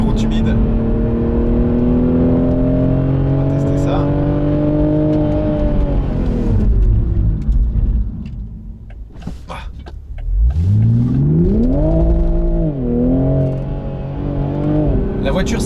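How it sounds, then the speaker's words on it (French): A Toyota GR Supra 3.0 slows under firmer braking on a wet road: the engine note falls steadily as speed drops, goes briefly quiet, then climbs again as the car accelerates away. "On va voir ce que ça donne sur un freinage un petit peu plus appuyé."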